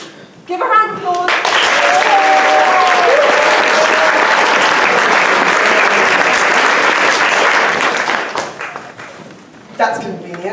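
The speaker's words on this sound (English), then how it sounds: "Give a round of applause." Loud burst of audience applause at a school pantomime, rising quickly and holding dense and steady for several seconds before fading, with voices speaking before and after.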